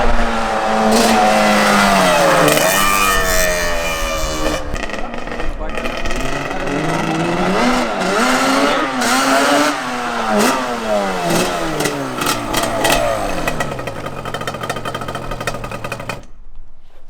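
A Yamaha Banshee engine running rough, revving up and down in repeated uneven sweeps at close range for the whole stretch, with voices talking over it.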